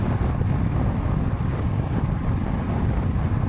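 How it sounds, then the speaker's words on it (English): Wind roaring over the microphone during a road test of a 2020 or 2021 Zontes T310-T motorcycle, a loud, steady low rumbling buffet with no voices. "Wind is more of a factor than all."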